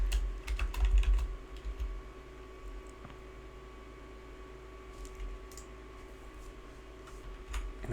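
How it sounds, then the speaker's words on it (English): Loud typing on a computer keyboard during background work at a desk, a steady run of close clicking keystrokes heard alone over a faint electrical hum. "So excuse my loud typing as always."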